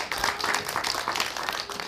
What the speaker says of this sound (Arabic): إذن تصفيق تصفيق على وسام.